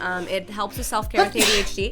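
A single sharp sneeze bursts out close to the microphone in an indoor room where a candle is burning, falling between stretches of someone talking.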